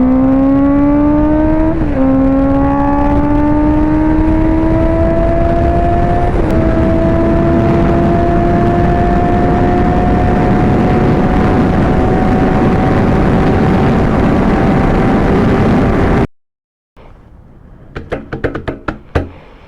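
A 2019 Honda CBR650R accelerates hard in third gear toward 8,000 RPM, a loud, close, rising engine howl with one quick pitch step, climbing steadily before cutting off into faint clicks and rattles.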